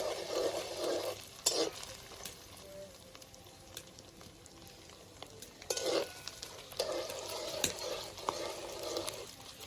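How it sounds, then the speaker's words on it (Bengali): Grated coconut fries in oil until reddish, with a soft continuous sizzle broken by bursts of stirring and scraping in the pan. "নারকেলগুলোকে আমি একটু লাল করে ভেজে নেব"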